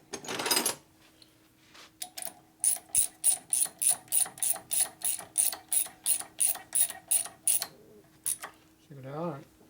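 Ratchet wrench fitted with an Allen socket tightening bolts on an S&S 113ci Evo Harley motor, clicking in a steady run of about fifteen quick, evenly spaced strokes, close and distinct, with a brief voice at the start and end.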